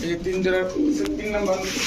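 Pigeons of fancy breeds such as Teddy, Damascene and Budapest coo at a pigeon shop, soft low rolling calls up close with a voice talking at the same time.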